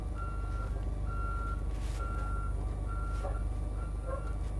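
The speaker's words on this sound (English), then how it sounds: "So I'm backing it up." A bus backing up during a pre-trip and maneuvering test gives off a steady series of electronic reversing beeps, about five evenly spaced tones over a low engine rumble.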